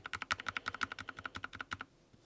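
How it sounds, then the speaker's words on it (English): Repeated keystrokes on a Cherry XTRFY K5V2 Compact keyboard's Enter key, an even train of sharp, close clacks about ten per second that stops abruptly, leaving quiet. "The Enter key."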